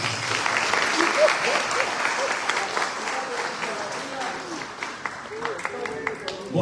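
Sustained applause fills a hall as the audience at a San Marcos university academic-year opening ceremony in Chilca claps steadily, with voices and chatter mixed in underneath as it gradually tapers.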